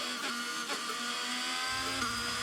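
Engine of an F1 racing car in the F1 22 video game behind the safety car, a steady high-pitched whine holding a constant note, with a brief shift in pitch near the end.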